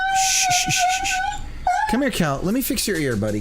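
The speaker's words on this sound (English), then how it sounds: "Sorry, that's my dog." A dog with a hot spot in its ear whimpers in a high, wavering whine for over a second before someone speaks soothingly close by.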